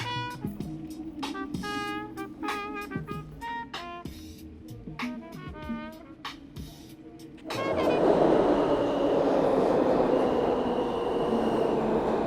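A New York subway train is heard from inside a car, first with rhythmic clatter and screeching over the rails, then settling into a louder, steady broadband rumble as it picks up speed, continuous and close.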